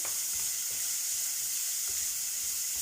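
Onion and garlic with curry leaves frying in a pan, a constant bright hiss of sizzling oil with faint occasional stirring scrapes, close and steady.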